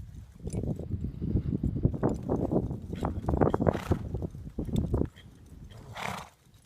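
A horse at a barrel racing lesson moves with a rapid run of loud, close hoofbeats, followed by a short breathy whinny or snort after the hooves stop.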